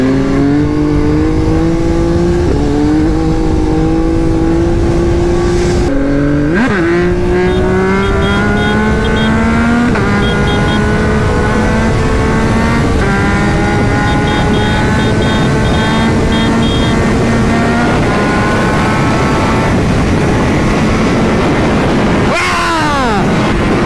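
A Yamaha motorcycle engine revs loudly and steadily in Naples traffic, pitch climbing through gear changes and dropping sharply twice, with constant wind and road noise.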